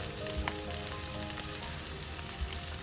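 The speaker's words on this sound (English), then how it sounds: "I'm just sauteing the onions, ginger, and garlic on a very, very low flame" Onions, ginger and garlic sautéing gently in a pan over a very low flame give a faint, even frying hiss with a few soft pops.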